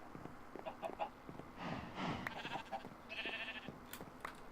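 Minecraft chickens in Sky Factory 3 cluck and squawk in short, scattered bursts, a few distinct calls with light game effects between them and no talking.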